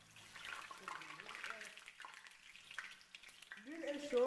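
Oil heating in a frying pan for frying bananas gives a faint, steady hiss and crackle, with a voice speaking over it through most of the stretch.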